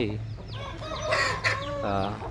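Native chickens cluck and a rooster crows nearby on a small poultry farm, several overlapping calls and squawks in quick succession.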